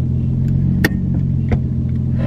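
An R33 Skyline's engine idles in a steady low rumble close by, with two brief sharp clicks or knocks over the drone and no talking.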